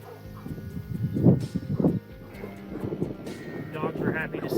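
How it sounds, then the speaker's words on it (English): Dogs bark and yip excitedly outdoors in a garden while Russian sage is pruned, a few close barks with whimpers amid wind noise and someone talking. "Dogs are happy to see me, as you can tell."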